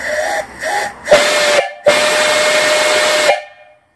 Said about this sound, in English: Whistle works great.